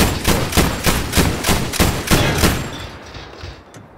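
Machine gun fire in the video game Battlefield V: a loud, steady burst of about ten rapid, heavy shots that stops abruptly, followed by a faint ringing tail.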